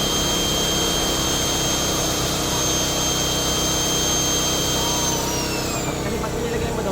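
A Toyohama 3500i inverter generator engine runs steadily up close with a loud, even whine and drone, its pitch sliding downward near the end as the speed drops.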